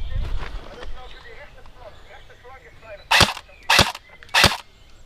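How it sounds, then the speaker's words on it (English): Airsoft guns fire during an outdoor airsoft game: three sharp, loud pops spaced about half a second apart follow a stretch of quieter rustling and background noise. "For the first time during this action, I get returned some fire."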